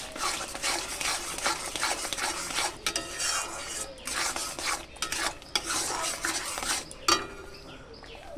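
A spoon stirs and scrapes masala sautéing in oil in a pan for hilsa curry, with irregular scraping strokes and a soft sizzle underneath, close and moderately quiet.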